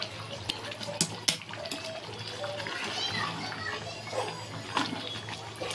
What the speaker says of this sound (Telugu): తర్వాత వేడి నీళ్ళు పోసుకోవాలి